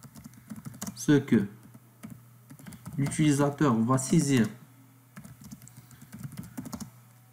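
Keyboard typing in quick bursts of clicks, close up, with a person speaking over part of it and a steady low hum underneath.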